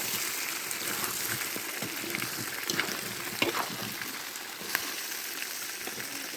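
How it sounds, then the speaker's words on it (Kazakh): Pieces of liver sizzle and crackle steadily in a hot pan for kuyrdak, a Kazakh fried-meat dish cooked over an outdoor hearth, with a few sharper pops and spatters rising above the constant fry. "Енді ең соңынан бауырымызды саламыз. Бауыр екені тез піседі."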